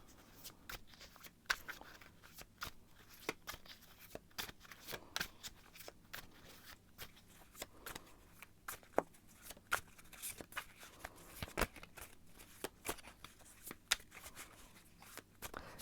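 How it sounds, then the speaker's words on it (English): A deck of tarot cards is shuffled close up in a quiet room, giving a long run of soft, irregular riffling and snapping sounds with no speech. "So I'm going to shuffle a little bit more"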